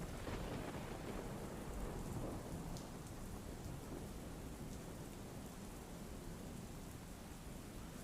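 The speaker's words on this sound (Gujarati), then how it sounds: "તો પોરબંદરમાં પણ ધોધમાર વરસાદ વરસ્યો।" Heavy downpour in Porbandar, a dense, loud, steady roar of rain with a deep rumbling undertone of thunder, continuous throughout with no voices.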